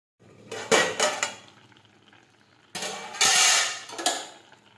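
A pot of samo rice being covered with a lid in a home kitchen: two bursts of metallic clatter and clinks, one shortly after the start and a louder one near the end, with a quiet pause between.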